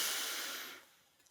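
A single deep inhale drawn in through the nose, soft and close, with a breathy hiss that fades away over about a second.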